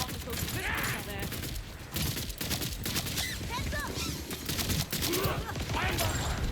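Rapid weapon fire in the shooter game Borderlands 4, bursts of gunfire and impacts crowding the scene almost continuously, layered under game effects and bits of voice.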